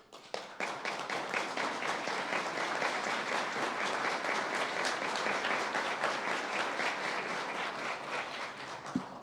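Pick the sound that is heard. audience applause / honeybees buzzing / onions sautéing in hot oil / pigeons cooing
audience applause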